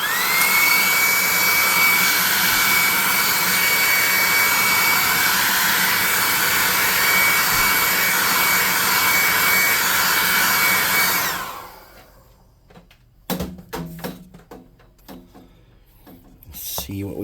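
A hot air gun blows to dry a tabletop gaming miniature, a loud steady roar for about eleven seconds that cuts off, followed by a few brief knocks and handling sounds.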